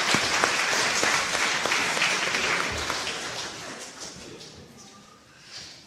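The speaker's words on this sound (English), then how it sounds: "They deserve a round of applause." A church congregation claps together in sustained, dense applause that holds steady, then gradually thins and fades toward the end.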